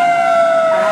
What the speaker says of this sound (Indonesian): Dan satu lagi, truk pemadam kebakaran.